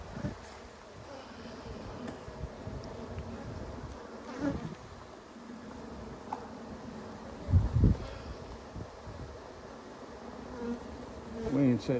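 Honeybees buzz around hives while a beekeeper prepares them for winter in Azle, Texas, a steady close drone with bees passing near, punctuated by rustling and handling thumps from hive work.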